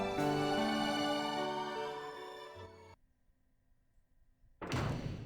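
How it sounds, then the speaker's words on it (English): A quiet door closes in the visual novel Umineko, a dull thunk arriving after sustained music cuts to near silence, followed by a sudden loud burst of sound. "there was a quiet sound of a door closing"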